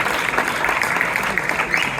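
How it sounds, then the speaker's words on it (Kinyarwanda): Congregation at a church worship gathering applauding God together, a dense, loud, sustained roar of many hands clapping with no breaks. "Reka dukomere Imana amashyi."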